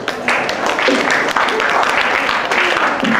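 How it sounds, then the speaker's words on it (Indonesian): Audience applause at a university student leadership training event, a steady broadband wash of clapping filling the whole stretch at fairly loud, even level with no pauses. "boleh tepuk tangan."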